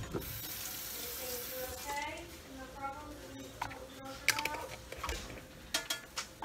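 Tap water runs loudly while a blood film slide is rinsed, a broad splashing hiss that eases after a couple of seconds as a voice murmurs quietly and small clicks and drips follow.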